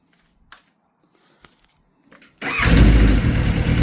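Kawasaki ZX9R motorcycle, hot after a ride and just out of two years' storage, cranks briefly with faint clicks before the engine catches and settles into a loud, steady rumbling idle, close by.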